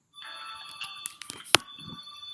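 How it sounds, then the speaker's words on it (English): An intercom phone rings with a steady electronic tone, accompanied by a few sharp clicks and knocks nearby. "So while I'm frying Pepper Fry, my intercom is ringing."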